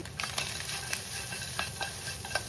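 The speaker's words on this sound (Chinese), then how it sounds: "两面都煎香了哈" Lamb chops pan-frying with cumin seeds sprinkled over them give a steady, close crackling sizzle, with sharp pops scattered throughout.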